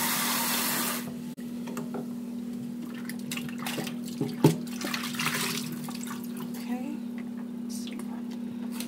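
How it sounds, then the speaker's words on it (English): Cold tap water runs steadily over raw chicken breast in a kitchen sink, with splashing and handling noises breaking through now and then under a constant low electrical hum. "I'm just going to wash my chicken with cold water so that I can season it."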